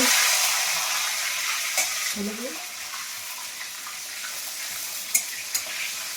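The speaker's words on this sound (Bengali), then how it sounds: "পাঁচফোড়ন আর তেজপাতা দিয়ে দিয়েছি এখানে ভেজে নেবো ভালো করে" Five-spice seeds (panch phoron) and bay leaves fry in hot oil in a wok, giving a continuous crackling sizzle with a couple of sharp spoon taps and light stirring.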